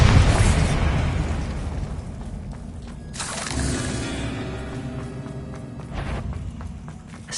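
A Bombarda blasting spell goes off in the game Hogwarts Legacy, opening with a loud burst that trails into rumbling debris, then further booms and scattered footstep-like sounds, with no voices.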